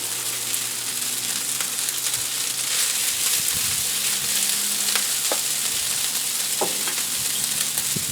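Rice fries steadily in hot oil in a pan for egg fried rice, a dense continuous sizzle with occasional utensil scrapes and clicks, close and loud with no talking.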